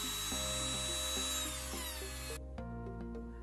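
A small electric nail drill, foot-pedal controlled, whirs steadily at high speed, its whine shifting pitch slightly as it spins, close and continuous.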